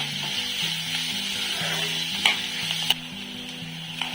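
Ginger garlic paste frying in oil for an egg curry, a steady close sizzle with a couple of sharp stirring scrapes and a faint tonal hum underneath, no one speaking.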